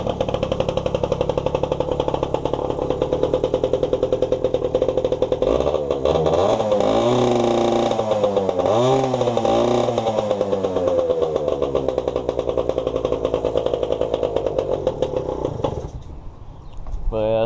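A pit bike engine idles loud and steady close by with no throttle, a rough rapid putter that briefly rises in pitch mid-way before settling, then cuts near the end; talking over it.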